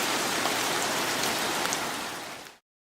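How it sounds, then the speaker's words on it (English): Steady broadband rain patters on and around a small garden fountain that catches the water, loud and close, then cuts off abruptly. "I'll show you the little fountain because it catches water"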